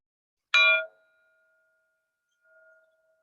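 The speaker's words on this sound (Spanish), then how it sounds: "vamos a comenzar con la meditación después de escuchar el gong." A single bright metallic strike of a meditation gong rings out and decays quickly, then a faint tonal echo of the same ring lingers briefly.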